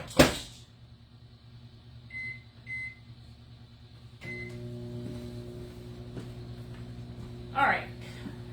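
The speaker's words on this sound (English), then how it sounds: "I'm going to go stick this in the microwave." A microwave oven starts up after a short clatter near the start, then runs with a steady low electrical hum for the last few seconds, with a brief knock near the end.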